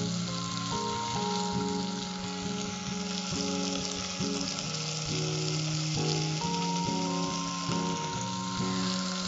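Curry leaves and asafoetida fry in hot oil for a Tamil kuzhambu, giving a loud, steady, close sizzle that runs the whole time, with some stirring and no one speaking.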